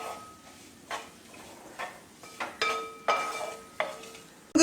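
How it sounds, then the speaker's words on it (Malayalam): Meat is stirred into a pickle masala in a pan, a spoon scraping and clinking against the metal in several close, uneven strokes with a faint sizzle underneath. "ഇനി നമ്മുടെ ഇറച്ചി ഇതിലേക്ക് ചേർത്ത് കൊടുക്കാം. ഇത് നന്നായിട്ട് ഇളക്കി യോജിപ്പിക്കുക."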